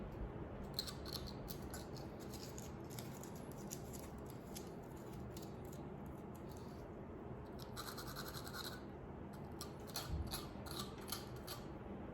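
Scissors cutting through a sheet of sandpaper, quiet close snipping and scraping in short irregular bursts with no talking.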